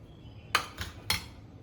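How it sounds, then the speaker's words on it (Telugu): A spoon clinks against a bowl three times in quick succession while curd salad with salt and lemon is stirred, the bright metallic taps close and distinct over a quiet background. "పెరుగుని మిక్స్ చేస్తున్నాను నేను"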